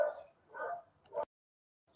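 Dogs next door bark in a few muffled, distant bursts, faint and low, before the sound cuts off into silence.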